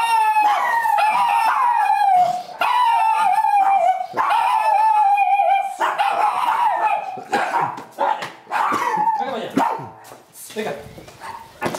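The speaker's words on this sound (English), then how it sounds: "Oh, can those dogs bark?" Several dogs bark and howl at a countryside villa near Carmona, Sevilla, a loud, close chorus of long wavering howls breaking into choppy yips and barks toward the end.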